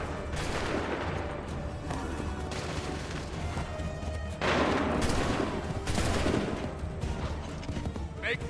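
Musket volleys crack out in a battle in Assassin's Creed 3, a dense roar of gunfire with louder massed bursts rising from the din, while voices shout commands beneath.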